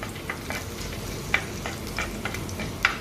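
Two cardamom pods and a piece of cinnamon sizzle in about one and a half tablespoons of oil left from frying fish, for a Kerala fish curry. A steady soft crackle runs throughout, with a few sharper pops and no talking.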